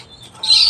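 Pigeons feeding their chicks: a faint thin tone, then a louder burst of high, squeaky begging chirps near the end of the short moment.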